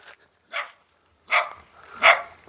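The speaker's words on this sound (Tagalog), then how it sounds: "Hala, may aso, guys." Three separate barks from a dog at moderate distance, spaced irregularly with quiet gaps between them.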